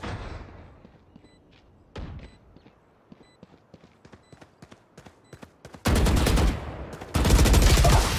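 Gunfire in a Valorant match: a short burst early on, then a run of sharp single shots spaced out, followed by two dense, loud sustained volleys near the end.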